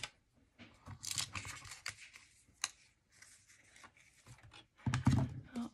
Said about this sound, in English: I'm just gonna cut it a little bit thinner here.